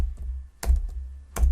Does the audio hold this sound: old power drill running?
no